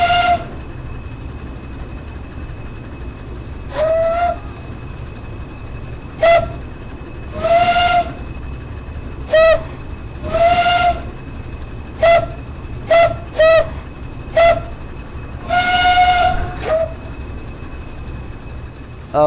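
Pannier tank locomotive's steam whistle in a train simulator, sounding as a series of sharp, separate blasts of varying length, some short toots and some longer held notes, over a steady rumble of the engine running.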